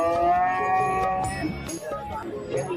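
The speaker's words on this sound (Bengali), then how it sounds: "আজকের হাটে হাজার হাজার গরু উঠেছে" Cattle, including bulls, low and moo at a crowded cattle market before Eid, a drawn-out nearby moo giving way to busy crowd noise and scattered clatter.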